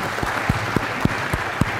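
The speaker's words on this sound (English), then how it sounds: "How about a round of applause for this young man?" Lecture-hall audience clapping for a student, a short burst of applause with a few distinct, evenly spaced near claps standing out over the general patter.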